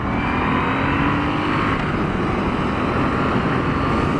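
A 2016 Triumph T-120 motorcycle accelerates hard, its engine a loud, close, continuous roar with rising pitch and strong wind rush.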